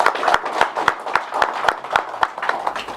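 An audience at a public event claps in a brisk, steady rhythm, sharp close hand claps repeating about four times a second throughout.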